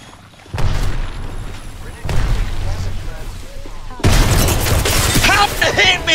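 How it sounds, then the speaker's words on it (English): Gunfire from enemies in Apex Legends comes as repeated booming shots and bursts at close range, loud and rapid. A player's voice is heard among the shots. "The enemies are shooting at me."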